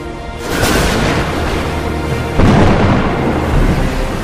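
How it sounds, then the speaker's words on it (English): Loud, rumbling thunder rolls through a heavy storm, with a second deep crash midway and a continuous roar of wind and rain. "a sudden violent storm like this one pushed them off course"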